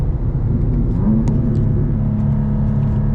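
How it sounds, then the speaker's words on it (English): A 2024 BMW M2 CS with a tuned transmission, heard from inside as a loud, steady engine drone and rumble while downshifting with the paddle shifters. "Nice and aggressive for the downshifts."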